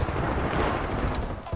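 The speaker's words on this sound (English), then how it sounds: "There's bombs." Bombs exploding during a video game match, a dense continuous wash of booming blasts and gunfire-like crackle filling the whole short moment at steady loudness.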